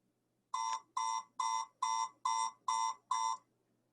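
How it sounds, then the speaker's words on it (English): An Arduino buzzer on a tilting toy sounds a crash sequence: seven evenly spaced, identical loud electronic beeps in quick succession, then silence. "when it's tilted down, there's a buzzer to simulate a crash sequence"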